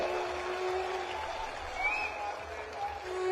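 Crowd applause at an Aam Aadmi Party political rally in Jind, Haryana, a steady wash of clapping and cheering that holds at an even level for a few seconds, with some voices mixed in.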